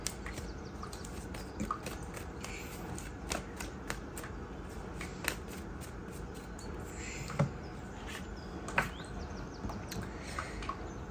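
Tarot cards being shuffled by hand indoors, a soft papery riffling and brushing that runs steadily and close throughout, with a few sharper flicks and taps, no talking.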